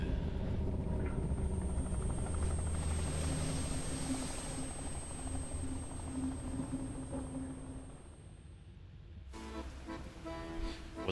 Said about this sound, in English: the executive boards his helicopter rotors already spinning